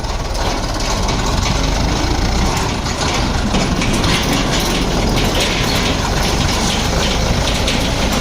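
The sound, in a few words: tractors at sugar mill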